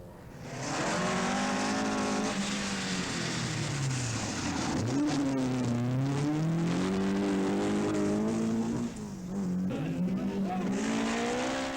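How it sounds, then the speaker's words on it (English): An Opel rally car races hard along a stage at the 1984 Galway International Rally, its loud engine revving and shifting pitch continuously close by, with brief tyre squeal and a momentary dip near the end. "Coleman's Opel is fastest on stage 13."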